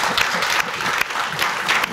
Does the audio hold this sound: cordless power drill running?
no